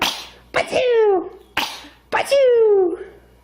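A child sneezes twice in a row, each a sharp intake followed by a loud, close, high-pitched burst with a squealing tail.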